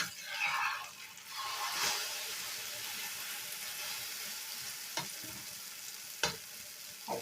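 A tomato paratha frying in a pan, giving a soft, steady sizzle with a few brief scraping touches of a spatula, fairly quiet and close.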